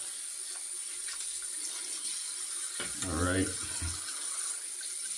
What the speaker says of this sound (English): So I'm gonna rinse the razor off really well.